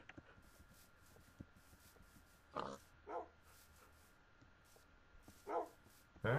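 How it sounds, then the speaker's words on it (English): A few dogs bark in separate, fairly loud bursts spread across a quiet, hushed background, with short gaps between barks and no talking. "There are actually a lot of dogs."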